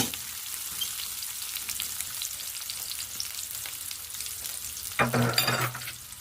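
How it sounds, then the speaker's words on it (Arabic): Onion frying in a little hot oil, stirred: a steady soft sizzle throughout, swelling into a louder, crackling burst near the end as the onion goes in and is turned, with no talking. "هيقدح الزيت اهوت، وهنحط البصله اهوت، نقلبها تقلبتين كده كويسين"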